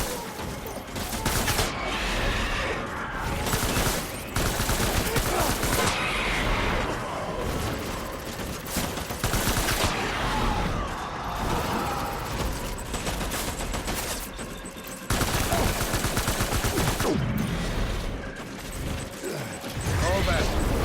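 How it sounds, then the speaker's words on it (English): Heavy, sustained bursts of rapid gunfire from soldiers in the video game Death Stranding, loud and dense with short pauses between volleys, while voices speak over the shooting. "Open fire."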